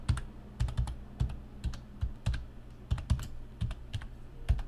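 Quick, irregular keystrokes on a computer keyboard as a superuser password is entered in a Debian 9 terminal, a close run of light clicks over a quiet room.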